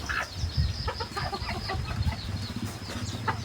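A one-year-old fighting rooster clucks and calls intermittently nearby, soft guttural sounds repeating over a quiet outdoor background.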